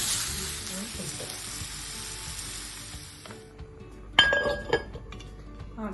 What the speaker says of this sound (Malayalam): മാരിനേറ്റ് ചെയ്ത പോർക്ക് അതിനകത്ത് ഹൈ ഫ്ലെയിമിൽ ഒരു 5 മിനിറ്റ്സ് ചെയ്തിട്ട്